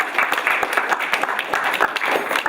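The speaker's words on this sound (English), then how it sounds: "Give her a round of applause." An audience bursts into applause for a magic performance, with scattered, moderately loud hand claps forming a steady patter of crowd clapping.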